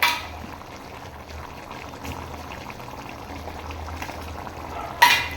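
Ground tomato is poured into a pot of bubbling drumstick and potato curry. A steady, soft simmering fills the scene, and a brief louder splash comes near the end.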